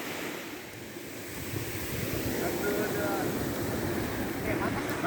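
Big ocean waves surge and wash steadily onto Soria Beach where people are bathing, a continuous broad roar of surf that swells slightly louder midway, with wind buffeting the microphone.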